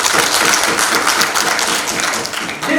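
An audience claps in a dense, sustained burst of applause that stays loud and even, then eases off slightly toward the end.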